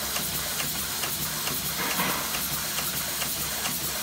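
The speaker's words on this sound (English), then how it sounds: "You can notice the machine sews the wood without any effort at all." Solent Ocean XXLH sewing machine with an extra large handle and electronic motor stitching through wood, giving a steady fast needle clatter with regular ticks over a constant motor hiss, close up and alone.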